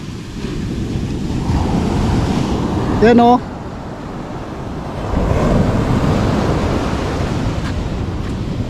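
Large ocean waves crash and roar continuously on a beach at Dingalan, loud and close, with wind buffeting the microphone and a person speaking briefly over the surf.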